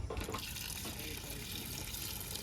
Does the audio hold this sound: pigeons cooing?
no